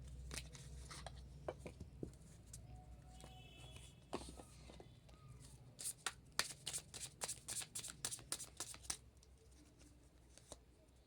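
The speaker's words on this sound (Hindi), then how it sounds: "यहाँ पे कुछ कार्ड हम निकालेंगे।" Playing cards are shuffled by hand, quiet scattered shuffling at first, then a rapid run of crisp riffling flicks in the middle, all close and soft.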